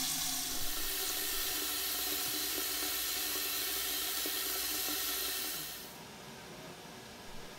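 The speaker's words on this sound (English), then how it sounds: "I used a big pot for canning, which I'm filling with water here" Steady rushing water pours continuously, like a tap filling a big pot, then cuts off abruptly near the end, leaving quiet room tone.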